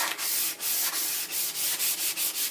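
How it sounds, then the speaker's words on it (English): Walnut wood is hand-sanded with 320-grit sandpaper after its grain was raised by dampening, giving close, rhythmic back-and-forth scratchy strokes, about ten passes in quick succession with no talking. "now I'm sanding the fuzzies off"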